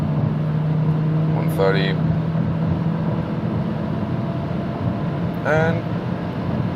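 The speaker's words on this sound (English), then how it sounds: "It takes some time until the turbo sets in, also until the downshift is happening" Inside a 2021 Renault Arkana, the turbo engine accelerates on the road as a steady, even drone of engine and road noise while someone talks over it.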